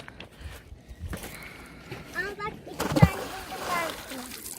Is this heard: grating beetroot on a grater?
no